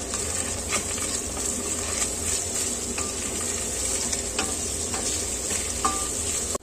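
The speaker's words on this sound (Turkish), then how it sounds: "Altı yemek kaşığı kadar zeytinyağı döktüm içerisine. Öyle kavuruyorum." Chopped onion and garlic sauté in olive oil in a pot, giving a dense, continuous sizzle up close, with brief spoon scrapes and taps as they are stirred.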